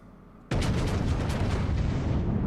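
Naval guns fire in World of Warships with a sudden loud boom that hits after a quiet start and then rolls into a long, sustained rumble of gunfire and explosions.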